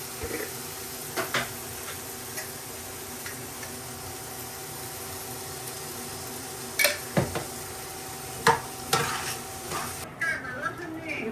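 Rice with chopped ginger, fried in ghee in a pot and stirred, giving a soft steady sizzle broken by intermittent scrapes and clinks of the spoon against the pot, heard close.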